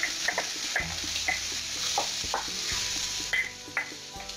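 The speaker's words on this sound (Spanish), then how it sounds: "Doramos un poquito el ajo" Garlic and vegetables fry together in a pan for a bean and chorizo dish, producing a continuous moderate sizzle broken by clicks and scrapes from stirring, with no voices.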